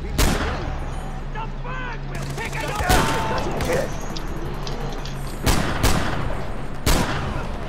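Revolver gunshots in a video game ring out as several sharp, loud cracks spaced a second or so apart, over steady game noise and background hum, with people talking between shots.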